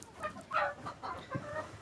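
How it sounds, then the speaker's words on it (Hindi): Desi and Kadaknath chickens on a poultry farm cluck in a run of short, close calls, several birds overlapping in quick bursts with no talk. "ये मुर्गी पालन किए हैं देसी मुर्गे का और कड़कनाथ मुर्गे का"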